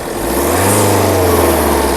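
A 2017 Jeep Compass Limited Edition engine runs steadily with a low hum and a slight rise in revs, close and continuous, no voices.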